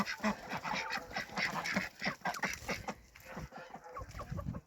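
Domestic geese wandering around a farmyard, a busy stream of honks and clucking calls from several birds close by, with other fowl mixed in and steady outdoor noise.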